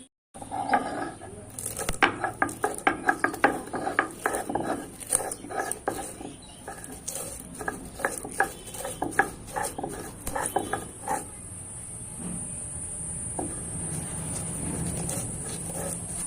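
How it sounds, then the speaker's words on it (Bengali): Dry-roasted spices being ground by hand on a flat shil stone slab, a rhythmic series of gritty scraping and knocking strokes, close and fairly loud, continuing steadily throughout with no one speaking. "মশলাগুলো তো ভালো করে ভেজে নিয়েছি এখন শিলে গুঁড়িয়ে নিতে হবে"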